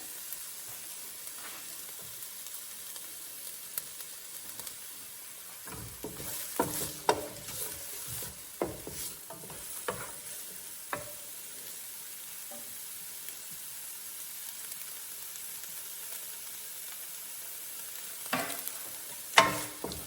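Bok choy and onions cook down in a hot pan, giving a steady sizzle broken by scattered clatters and scrapes of stirring that grow busier in the middle and again near the end.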